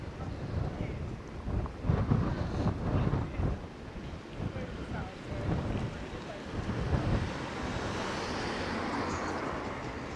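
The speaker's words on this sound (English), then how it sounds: "that wind is pretty strong" Strong wind buffeting a handheld camera microphone on a December afternoon walk through New York City, a continuous loud, rumbling roar that surges and eases without pause.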